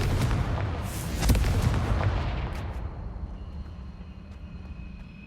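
Fiery explosion from a fire curse spell in the Hogwarts Legacy video game, a loud booming burst with rumbling crackle that fades gradually into a low tail over several seconds.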